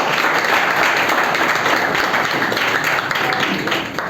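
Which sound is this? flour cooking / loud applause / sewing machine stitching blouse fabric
loud applause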